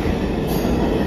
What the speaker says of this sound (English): Let's see if that 4 train will ever move.